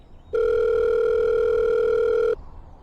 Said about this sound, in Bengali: নিজেই নাম্বার ডায়াল করে ফোন করলো